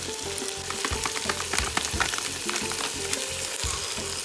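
Biryani masala gravy fries and is stirred in a hot pan, a steady close sizzle with rhythmic scraping strokes of the spoon, no voices.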